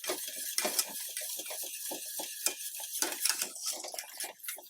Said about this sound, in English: I'm going to be stirring this just as carefully as I did before to make sure that it does not scorch.